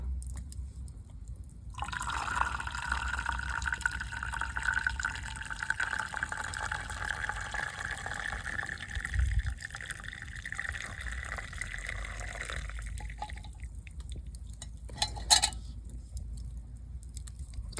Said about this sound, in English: Hear it hitting the bottom there.